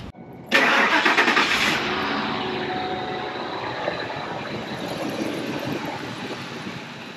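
A Ford 5.4L Triton V8 truck engine cranks and starts with a sharp jump in loudness, then settles into a steady, rumbling idle that carries on alone without any talk.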